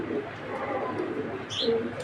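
A female pigeon and others coo softly nearby, low throaty calls repeating a few times over a faint background hum, with a brief higher chirp near the end.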